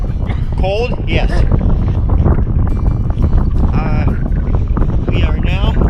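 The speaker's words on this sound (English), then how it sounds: "It's very windy." Strong wind on a frozen lake buffets the microphone with a steady, loud rumble, while voices talk underneath throughout.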